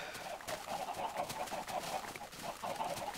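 Chickens clucking in a video game, a steady, faint backdrop of overlapping fowl calls running throughout without pause.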